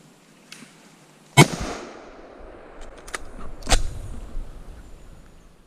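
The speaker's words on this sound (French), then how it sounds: "J'ai la chance de lui mettre une balle vraiment pleine épaule" Rifle shots ring out at a wild boar during a driven hunt, from about fifteen to twenty metres: two sharp loud cracks roughly two seconds apart with a few fainter clicks and rustles between, outdoors with no talk.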